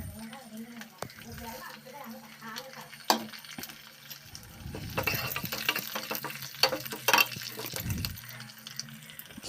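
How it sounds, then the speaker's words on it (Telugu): Mustard seeds, urad dal, cumin, garlic, dried red chillies and curry leaves fry in hot oil for a tempering, giving a sizzling crackle that swells partway through, with clinks of stirring close by. "ఆవాలు, మినపప్పు, జీలకర్ర, ఎల్లిపాయలు, ఎండుమిరగాయలు, కరివేపాకు అన్నీ వేసుకుని పోపు పెట్టుకోండి"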